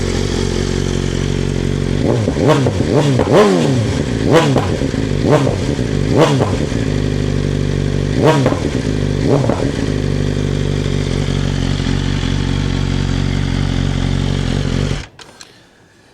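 A BMW M1000XR motorcycle with a Stage 2 flash tune starts up and settles into a loud, close idle at a steady rumble. Several throttle blips come early, then it cuts off abruptly at the end.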